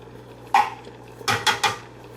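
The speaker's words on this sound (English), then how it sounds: "Now I'll go ahead and stir this in and bring it up to a simmer" A spoon stirs oregano, seasonings and drained canned sliced mushrooms into a sauce in a pan, giving one clink and then a quick run of three metallic scrapes and taps against the cookware.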